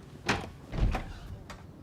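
A few heavy thuds against a door, one after another, with a hollow knock and rattle between them.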